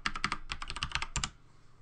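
Fingers typing a password on a computer keyboard while installing software from a Linux terminal: a quick run of about a dozen crisp, close key clicks in uneven bursts, then quiet.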